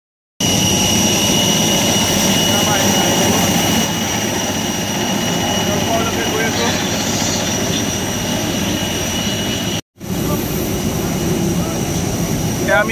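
A SpiceJet passenger jet's engines roar steadily up close, a loud, continuous broadband rush with a high whine on top. The roar cuts out briefly near the end and then resumes.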